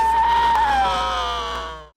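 A man's drawn-out scream as he dies in the 1993 film Judgment Night, loud and near, one sustained wavering cry that slowly fades out into silence.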